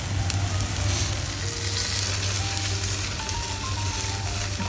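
Okonomiyaki frying on a hot griddle just after being flipped, giving a steady, close, continuous sizzle and crackle that holds at an even level throughout with no talking.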